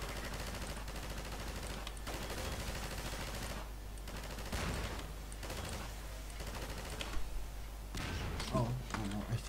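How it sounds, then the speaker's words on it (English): Rapid enemy gunfire bursts out in the video game Half-Life 2, clustered shots and thuds coming in waves over a steady background hum, with a player talking over it. "Stop shooting at me, you cheater."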